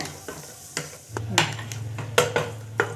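Broken cashews and raisins roast in a pan over a low sizzle, with scattered spoon scrapes and metallic clinks against the pan and a steady hum beneath, heard up close.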